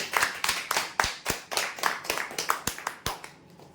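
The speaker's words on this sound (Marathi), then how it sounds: "जोरदार टाळ्या होण्यासाठी" Audience claps in a steady run of sharp, separate hand claps at a customer prize draw as a third-prize winner of a spray pump is announced, loud and close with no talking over it.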